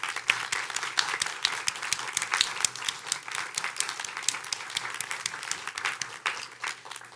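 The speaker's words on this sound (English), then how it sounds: "Let's give them all a round of applause." Steady audience applause fills a mayoral candidate forum hall, dense clapping continuing evenly and then tapering at the end.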